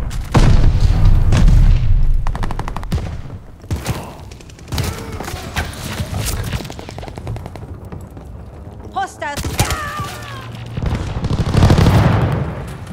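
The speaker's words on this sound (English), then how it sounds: "Tossing grenade." Grenade blast in an online military shooter video game, with booms and gunfire crackling through the scene over continual talk and game voice callouts.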